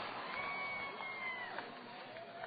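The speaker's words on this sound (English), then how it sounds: "What a crowd on a Saturday night here." A crowd at a Saturday-night minor-league baseball game, Salt Lake Stingers at Round Rock Express, fills the stadium with a steady roar and cheering. The noise holds at an even level, and a voice talks over it.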